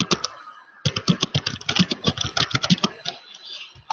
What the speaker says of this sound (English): They're typing.